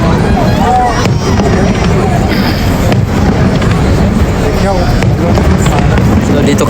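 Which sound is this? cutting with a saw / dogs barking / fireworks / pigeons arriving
fireworks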